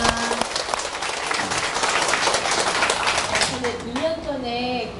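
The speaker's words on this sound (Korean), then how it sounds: "박수" A live lecture audience claps together in a dense, sustained patter of applause that fills the room for several seconds. Voices and a speaker's microphone sound mix in toward the end.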